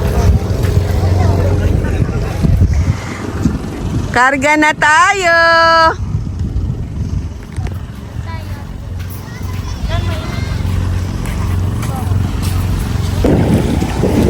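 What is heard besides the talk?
motorboat at sea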